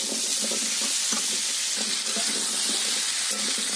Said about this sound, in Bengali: কুমড়ো তাহলে ভাজা হোক